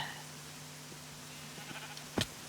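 A sheep bleats once in a survival video game, a short nearby call near the end over a low steady background hum.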